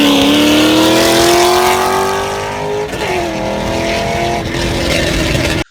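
A Chevrolet Corvette C5 with a 6-liter, 400-horsepower V8 drives hard. A loud, steady engine roar climbs in pitch, dips briefly midway as if shifting gear, then pulls on until a sudden cutoff.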